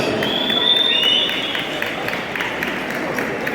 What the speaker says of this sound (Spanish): Recibamos entonces con fuertes aplausos